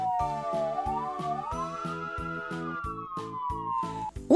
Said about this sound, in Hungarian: A mentőautó hátra tolat.